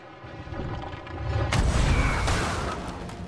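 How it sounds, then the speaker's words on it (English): An in-game bomb blast strikes a pirate ship in Sea of Thieves, a loud broadband boom that hits suddenly and rolls on for a couple of seconds over low rumbling game ambience. "We got hit by a bomb?"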